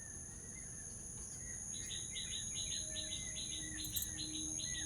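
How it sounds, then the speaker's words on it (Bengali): Steady insect trilling fills the background in a garden while a few small bird chirps come and go, fairly faint and distant, with no voices. "তার সাথে পাখির ডাকের আওয়াজ"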